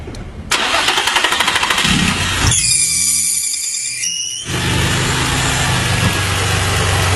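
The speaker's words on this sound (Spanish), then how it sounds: "vamos a echar a andar el motor" A car engine cranks and catches, then settles into a steady, loud idle nearby, with a brief quieter pause partway through before the running rumble resumes.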